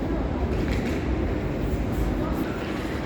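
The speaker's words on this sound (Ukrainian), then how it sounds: "Потяг прибув на перший перон." A passenger train rolls along the first platform at Lviv station, a steady low rumble of wheels and carriages with a constant mechanical drone and faint higher squeals.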